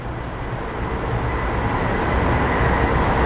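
Special steam locomotive train 901 on the Bangkok–Ayutthaya run passes Lak Si station, heard as a loud, steady rail rumble that holds and builds slightly over the whole stretch, with no voices.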